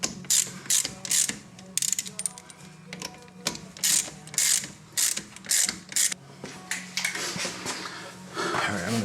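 Rapid ratchet clicking in repeated bursts as T40 bolts are tightened on a Mercedes W210 E320 front suspension, close and fairly loud, with short pauses between strokes.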